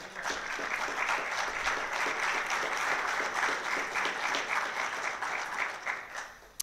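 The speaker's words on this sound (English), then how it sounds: "I didn't know I was going to get an applause line in my speech" An audience at a CPAC 2011 roundtable on repealing the Patriot Act breaks into sustained applause, a dense, even wash of clapping that holds for several seconds and tapers slightly at the end.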